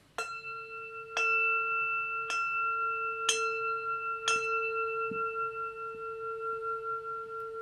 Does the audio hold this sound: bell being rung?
yes